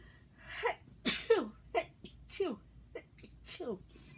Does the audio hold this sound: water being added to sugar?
no